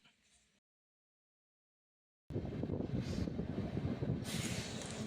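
A loud, steady roar of a train rushing past Maddur railway station fills the second half, rumbling and windy, after a brief quiet stretch.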